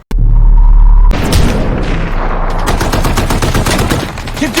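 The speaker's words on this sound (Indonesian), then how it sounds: "Ramesa kemudian mengambil senjata rekannya untuk membantu melumpuhkan sniper Taliban" Heavy gunfire in a war-movie battle against a Taliban sniper in an Afghan valley: a loud boom opens, then rapid overlapping bursts of rifle and machine-gun shots crackle continuously, close and intense.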